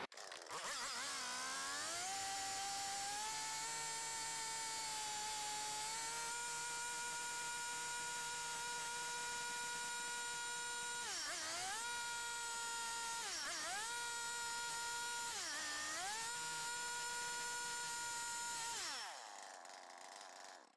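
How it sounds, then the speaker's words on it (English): A chainsaw drones loudly at a steady pitch, dipping and rising a few times as it makes horizontal cuts into a timber tie beam for a post and beam garage, then cuts off near the end. "doing these horizontal cuts with the chainsaw is more difficult than the vertical ones."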